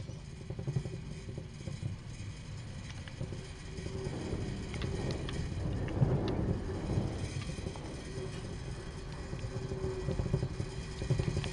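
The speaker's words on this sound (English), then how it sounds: "Start the engine." A train's diesel engine in Train Sim World 2 starts and settles into a low, rumbling idle, building steadily in a dense, continuous drone with no talk over it.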